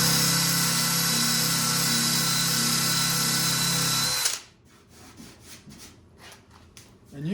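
A power drill fitted with an eraser wheel grinds old pinstriping off the side of a 1987 Ford Ranger, a loud, close, steady whine that stops abruptly partway through, leaving quieter handling noises.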